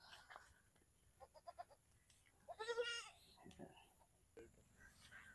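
Newborn young goat on a farm bleating in short wavering cries, one clearer call in the middle among faint softer sounds, close and fairly quiet, with a low voice murmuring in the background.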